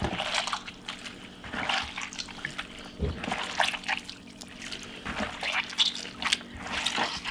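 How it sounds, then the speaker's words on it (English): Hands squeezing whey out of warm homemade mozzarella curds give a steady wet squelching and trickling, with sloshes and drips close by. "start using our hands to squeeze out as much of the extra whey as we can"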